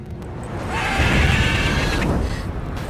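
A single drawn-out mare's whinny from the video game The Witcher 3 rises and holds for about a second, loud and close, over a rumbling, noisy background.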